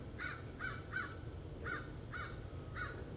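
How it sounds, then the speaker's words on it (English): Outdoors, crows give six harsh caws in uneven pairs and singles over about three seconds, moderately near against a quiet background hiss. "I'm sorry if you hear the birds, I'm outside."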